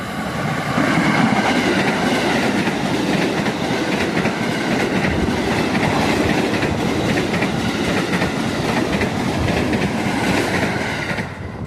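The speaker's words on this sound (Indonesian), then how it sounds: "yang tadi barusan lewat itu tadi baru momen pertama yaitu lokomotif WNB berdinas kereta api Majapahit dari stasiun Malang ke stasiun Pasar Senen" A passenger train of the Majapahit service hauled by a white and blue WNB-liveried locomotive passes close by in Indonesia, a loud continuous rumble with rhythmic clickety-clack of wheels over rail joints and faint squeal, no talk.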